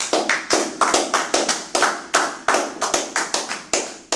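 A congregation claps in a fast, steady rhythm to acclaim Jesus at a church service. The sharp, loud hand claps repeat about every quarter second for several seconds, with no voices heard.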